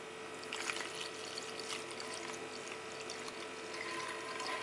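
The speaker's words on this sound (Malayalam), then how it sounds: "നമുക്കിതിലേക്ക് വെള്ളം ഒഴിക്കാം." Water is poured into a pot of chili gravy for mulakushyam, a Kerala side dish for idli and dosa, making a steady, close splashing pour that runs on without talk.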